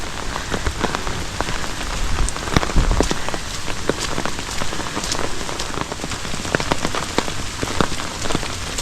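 Rain falls steadily on a campsite on Cumberland Island, a dense, even patter with close drops tapping a surface throughout and no voices.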